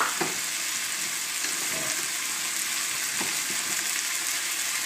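Rice and peas fry and are stirred in a pan for Cantonese fried rice. A steady sizzle continues throughout, with a few scraping stirs of the utensil, and a voice says one brief word.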